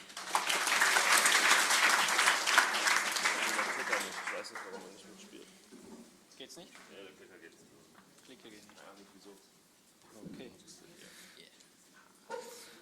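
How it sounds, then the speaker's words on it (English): Conference attendees at a Zurich frontend lightning-talk session give a burst of loud applause that dies away after a few seconds, followed by a speaker talking into a microphone. "Another round of applause for Dominic, please."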